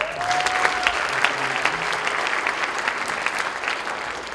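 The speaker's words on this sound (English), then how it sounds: "Give yourselves a round of applause." An audience at a jazz concert applauds, dense clapping that is loud at first and then holds steady before easing slightly toward the end.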